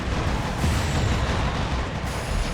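A power missile exploding in the vehicular combat game Twisted Metal: Black, Suburban Terror level, heard as a loud, sustained blast of rumbling noise with steady game din throughout.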